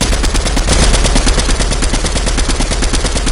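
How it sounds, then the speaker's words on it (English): Dense, loud automatic gunfire from a PS4 shooter game rattles continuously in rapid bursts, with no pauses and no voices over it. "They're shooting at me"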